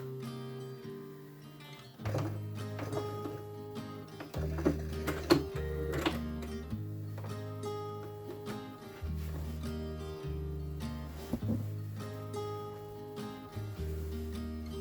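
A sewing machine stitches a baby quilt, running in bursts of steady mechanical whirring with brief pauses, ending in a quick run of locking stitches; fairly close, with no talk.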